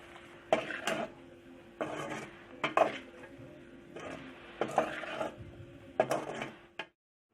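Boiled pasta and vegetables are stirred together in a pan at home, five bursts of scraping and clanking utensil against metal, close and fairly quiet, separated by short pauses before falling silent.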